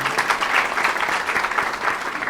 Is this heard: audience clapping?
yes